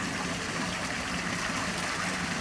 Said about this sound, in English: There's the water flowing in.